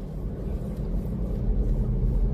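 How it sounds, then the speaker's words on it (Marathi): Cars return along the road to Bhimashankar, a low steady engine and tyre rumble heard from inside a moving vehicle, continuous and moderately loud with no talk. "गाड्या रिटर्न पण येत आहेत"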